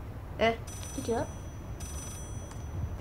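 Two short bursts of telephone ringing from the horror game Layers of Fear sound at moderate distance, mixed with people talking over a low hum.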